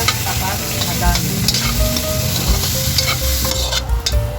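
Chopped onion and tomatoes sautéing in hot oil for a Filipino pinakbet vegetable stew, a close, continuous sizzle with spatula scrapes and stirring clatter throughout.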